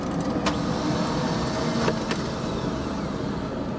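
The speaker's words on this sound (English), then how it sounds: "The starter is spinning, but it is not engaging the flywheel to turn it over." The starter on a 1970 Cadillac Coupe DeVille spins without engaging the flywheel, making a continuous close whirring whine with faint clicks on top and no engine catching.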